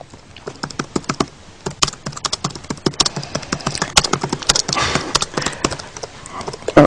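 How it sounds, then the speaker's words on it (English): Rapid keyboard typing during a live fashion interview, a fast irregular stream of close, crisp key clicks with faint talk underneath. "You're a very fast typer."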